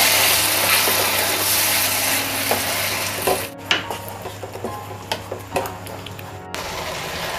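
Blended tomato puree being stirred into chicken curry in a pan, with a constant sizzle under repeated scraping and clinking of a spoon against the pan, close and without speech.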